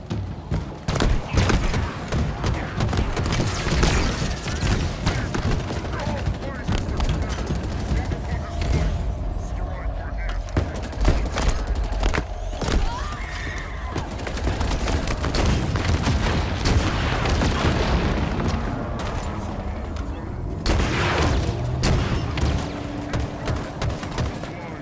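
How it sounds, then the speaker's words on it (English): Repeated grenade explosions and bursts of gunfire in the video game Halo Infinite, a dense, continuous barrage of booms and shots with a voice talking over the battle. "Fuck tons of grenades in there."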